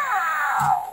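A Zoomer Kitty interactive robotic cat toy gives a short, loud electronic meow with a falling pitch, close and alone.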